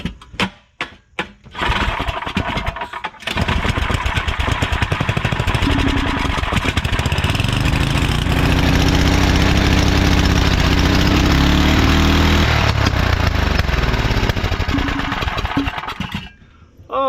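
A Tecumseh 9 hp 318cc small engine running on junkyard parts catches and runs loud and steady with a rough, uneven idle, its revs climbing and falling before it cuts out near the end.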